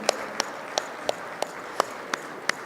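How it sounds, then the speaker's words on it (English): An audience at a design-week townhall gives a few sparse, regular claps, fairly faint against a quiet room. "let's clap for Dr. Amit, please."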